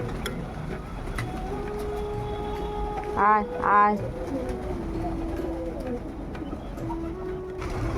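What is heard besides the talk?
pigeons cooing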